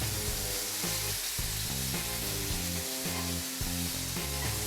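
Lamb steak coated in spices sears in a hot pan, giving a dense, continuous sizzle and crackle close up, with no talk over it.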